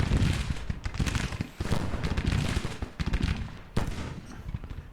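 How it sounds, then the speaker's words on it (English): Dense volleys of musket and rifle fire crackle in the Civil War strategy game Grand Tactician: The Civil War, overlapping bursts of shots rolling in uneven waves as brigades engage, loud and continuous without speech. "we're going to have a ton of fire hitting Branch's brigade"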